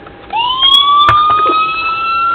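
Siren on a custom slicktop Crown Victoria Police Interceptor switching on and sliding up into a steady wailing standard tone, loud and close, with a brief click partway through and no talk.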